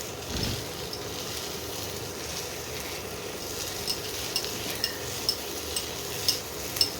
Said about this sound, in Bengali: গরম মশলাটা ভালো করে মিশিয়ে নিলাম।